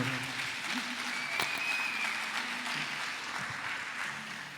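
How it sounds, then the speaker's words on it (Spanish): A church congregation claps in praise during a sermon, a broad, continuous patter of many hands heard at moderate volume, with a faint whistle-like tone briefly over it. "Denle un aplauso al Señor"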